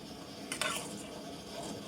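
A spoon stirring a batter of rice flour, milk, grated coconut and jaggery in a pot, with a quiet scraping swirl and a brief clink of utensil against the pot, soft and close.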